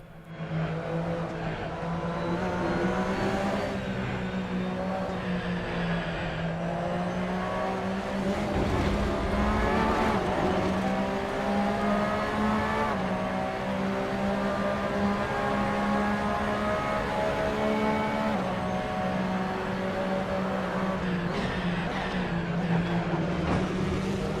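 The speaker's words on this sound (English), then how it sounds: "As for the sound of the vehicle, well, I'll let you have a little listen with your ear holes." A Porsche 911 RSR race car engine in a racing video game roars steadily and loudly throughout, its pitch climbing and falling with revs and gear changes, no voices present.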